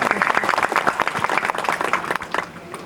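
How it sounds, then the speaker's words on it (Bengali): An audience at a satsang gathering breaks into applause, a close burst of many hands clapping that stays lively for about two seconds and then thins out. "আমরা সবার জন্য একটা হাততালি প্লিজ"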